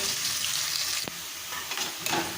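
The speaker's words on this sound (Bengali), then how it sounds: "পেঁয়াজটাকে লালচে বাদামি করে ভেজে নিতে হবে।" Chopped onion fries over low to medium heat in a pan for Bengali khichuri, a steady close sizzle broken by a couple of sharp spatula scrapes.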